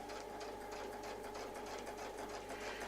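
A sewing machine stitches a curly-cue quilting pattern, running as a continuous close, even mechanical whir with rapid needle rhythm and a steady motor hum throughout, with no talking.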